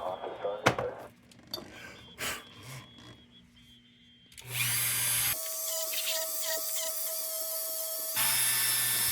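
A rotary power tool fitted with an 800 grit bit polishes the painted metal of a Dietz #40 traffic gard lantern. A steady high-pitched whine runs for several seconds with a brief dip in the middle, and it follows some clatter and faint talk near the start.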